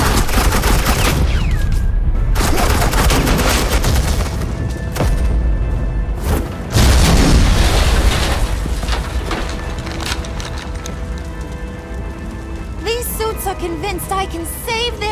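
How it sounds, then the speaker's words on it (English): Rapid suppressing gunfire in the Batman Telltale game The Enemy Within, a loud and continuous barrage of automatic shots lasting throughout, with heavy booms and impacts mixed in. "suppressing fire"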